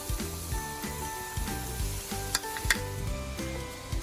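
A steady, crackling sizzle of peanuts frying in hot oil, with rhythmic stirring scrapes and an occasional sharp pop.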